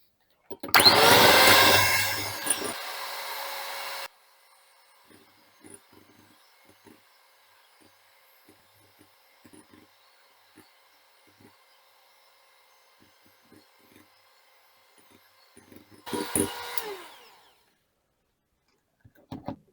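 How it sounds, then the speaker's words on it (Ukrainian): Electric mixer whipping egg whites with sugar for a Norwegian cake, a loud motor whir for a few seconds that drops to a lower hum, then quiet clinks before a second short burst of whirring. "Зараз зіб'ю тільки білки."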